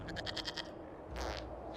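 A goat bleats in Dragon Age Inquisition, a run of quavering, nasal bleats close up, then a shorter, fainter call a moment later, with no voices over it.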